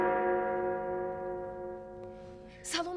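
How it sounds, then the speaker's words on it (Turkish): A theatre's third bell sounds before a show, its sustained metallic tone ringing and slowly decaying, fading out before a brief breathy sound near the end. "Üçüncü zil."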